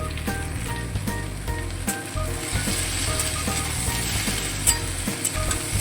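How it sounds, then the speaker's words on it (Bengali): Mixed vegetables with jackfruit seeds and slit green chillies being stirred and fried in a pan, a steady close sizzle with repeated scraping strokes of a spatula throughout, no talk. "এবারে সমস্ত সবজিগুলো আবারও খুব ভালোভাবে নেড়ে চেড়ে নেব"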